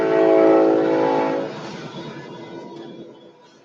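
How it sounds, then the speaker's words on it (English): A train rumbles past with its horn sounding loud and sustained at first, then the horn fades and the rolling noise trails off into the distance. "train!"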